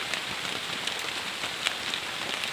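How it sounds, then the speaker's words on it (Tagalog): Rain patters onto the damaged, leaky roof of a hut, a soft steady hiss with scattered close drips and ticks, faint and without voices. "Yung ulan"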